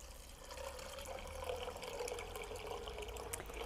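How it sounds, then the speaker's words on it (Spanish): Water is poured over chickpeas to cover them, a soft continuous trickle and splash that stays fairly quiet and steady, with no talk. "los cubrimos con agua"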